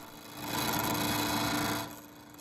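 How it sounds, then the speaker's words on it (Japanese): A wood lathe spins a quince burl (karin kobu) blank for a wine bottle stopper while a skew chisel takes a peeling cut, producing a steady, close scraping whir that rises, holds for over a second, then fades. "最初は角を落として丸くするのが目的の荒削りになりますが、スキューのピーリングカットで"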